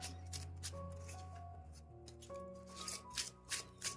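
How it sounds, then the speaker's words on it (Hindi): Tarot cards being shuffled by hand, soft riffling and tapping bursts that grow more distinct toward the end, faint and close, over a low steady musical background. "तो शुरुआत करते हैं कार्ड शफल करके।"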